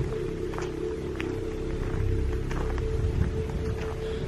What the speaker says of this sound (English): it started just with raining